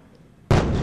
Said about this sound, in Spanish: 500 rondas de bombardeos en 40 minutos por tierra y aire.